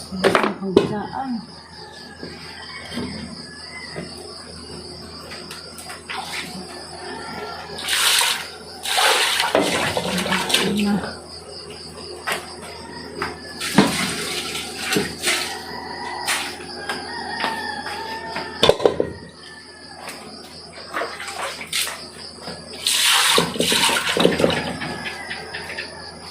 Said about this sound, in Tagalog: May tubig sa gripo.